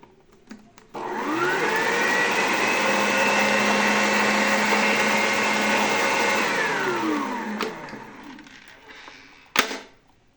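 An electric mixer beats red velvet cake batter with eggs in a loud, steady whir that ramps up, holds for several seconds, then winds down, followed by a sharp knock.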